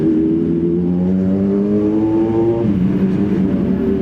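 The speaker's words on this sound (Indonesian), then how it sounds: "Kedengeran nggak tuh guys mesinnya ZX?" A Kawasaki ZX motorcycle engine revving loudly up close, a steady rising drone that drops in pitch partway through, then holds.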